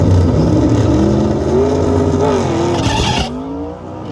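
A turbocharged Dodge Dakota RT pickup with a small-block 360 engine makes a drag strip pass with its tires spinning. Its engine roars loud and close, pitch rising and sweeping as the tires squeal, then the sound drops away at the end.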